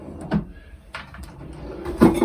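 Cupboard doors opening and closing nearby aboard a Botnia Targa 46 boat: a few soft knocks and thuds at irregular intervals with quiet rustling between.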